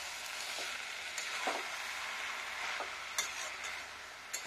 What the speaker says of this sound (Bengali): এটা মিক্স আপ করে নেবো ভালো করে।